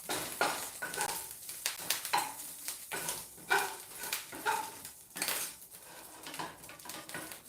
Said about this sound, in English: I'm just going to give it a couple more stirs, and I'm going to pull it off.